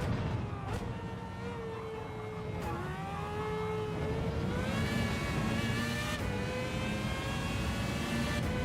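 A car engine in the racing game Gran Turismo 7, driven around a track with a steady drone that rises and falls in pitch as the revs change, loud and alone.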